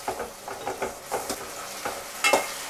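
Tomatoes for Andhra-style tomato dal sizzle in a pan over a high flame as a spoon stirs them in quick, repeated scrapes, close and fairly loud with no talking.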